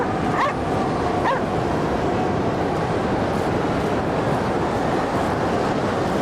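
Dogs bark and yip in the video game Cryostasis, set aboard an icebound ship near the North Pole, a few sharp calls early on over a loud, steady roar like wind or surf that fills the whole stretch.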